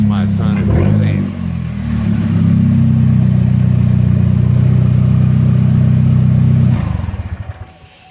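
A Chevy Cruze fitted with a ZZP midpipe and partial downpipe removal runs loud, a deep droning engine note that swells after a brief rev, holds steady, then shuts off abruptly near the end.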